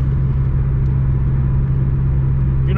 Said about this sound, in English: So I'm climbing this curvy hill in third gear, and this thing just wants to keep on eating.